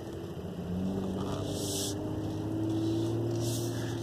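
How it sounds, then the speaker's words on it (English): A 2017 Mercedes-Benz GLE43 Coupe engine blips and rises as it rev-matches on a downshift, a steady low rumble from inside the cabin with a couple of brief swells. "you can feel it, hear it kind of rev match there"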